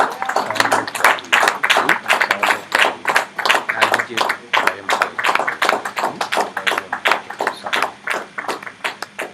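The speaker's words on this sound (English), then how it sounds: "more applause as she comes?" Sustained clapping from an audience, dense and rhythmic, filling the room for several seconds without a break.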